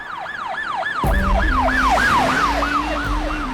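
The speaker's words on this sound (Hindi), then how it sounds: "जब मैं फोन पे बात कर रहा था तो एम्बुलेंस का आवाज सुनाई दिया।" An ambulance siren wails in a repeating rising-and-falling pattern, loud and close. About a second in, a low engine rumble and a steady droning tone from a nearby vehicle join beneath the continuing wail.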